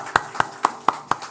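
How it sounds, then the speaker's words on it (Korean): Steady claps from a church congregation during a Sunday morning worship service, five evenly spaced hand claps in slow unison rhythm, moderately loud and close with no talk. "우리 하나님께 영광의 박수 올려드리겠습니다"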